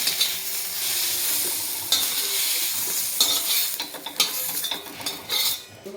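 Roasted tomatoes and onion are stirred together in a pan for a homestyle egg curry, giving a steady sizzle with scraping and clinking of a utensil against the pan, close and continuous with no voices.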